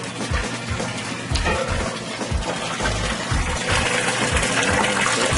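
Fifteen gallons of home brewing water circulate through a mash tun, a steady, loud rushing and gurgling wash with a low pump-like hum underneath, continuous for the whole stretch without any talk.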